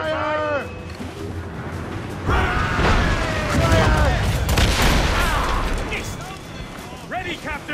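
Ship cannons and mortars boom during a naval battle in Assassin's Creed Rogue, heavy blasts rolling over one another amid crew voices shouting orders.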